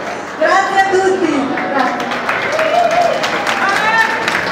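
Applause from a live evening crowd, steady and dense throughout, with cheering, whistles and voices rising over the clapping.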